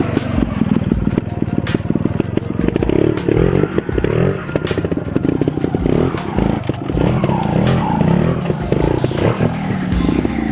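A trial motorcycle ridden in a training session stalls, revs and clatters up close, its engine bursts rising and falling in an uneven stop-start rhythm with scraping knocks throughout.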